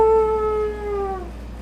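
Two direwolves spawning in a fantasy tabletop session are heralded by a wolf howl effect, a clear, sustained tonal wail that slowly bends downward and fades out, heard alone.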